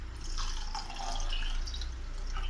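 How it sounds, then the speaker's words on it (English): Water pouring into a pan of ginger, cloves, cinnamon, black pepper, cardamom and turmeric for a home-made cold remedy, a steady close trickle and splash with low background hum. "Add enough water."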